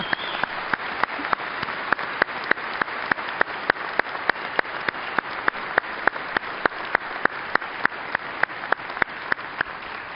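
At a fire department conference keynote, an audience claps steadily for a speaker's father, a continuous, evenly paced round of applause with regular sharp claps standing out over a dense background of hands.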